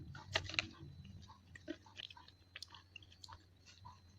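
Someone chews a Silver Queen chocolate bar with cashew nuts, starting with a few crisp bites and going on to softer, irregular crunching and mouth clicks close to the microphone, fairly quiet, with no talking.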